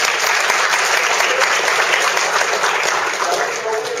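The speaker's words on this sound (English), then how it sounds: "Everybody give Lindsay a big round of applause" Audience applause at a college variety show, a dense, steady round of clapping from a full crowd that holds loud for several seconds before easing slightly at the end.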